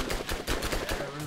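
Rapid SMG bursts from Borderlands, with sharp, evenly spaced shots at a sluggish fire rate across a short stretch, loud and close with no pause.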